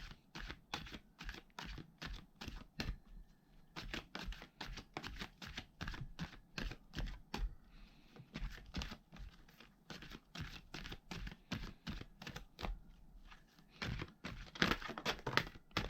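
Tarot cards shuffled by hand, a rapid, steady run of crisp, close flicking clicks and soft snaps that carries on for about sixteen seconds with no voice.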